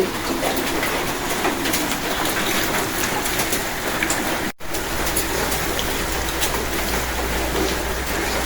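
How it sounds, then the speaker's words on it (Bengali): Steady rain pattering on surfaces, with a pigeon cooing in the background and a brief dropout midway. "বৃষ্টি নামছে"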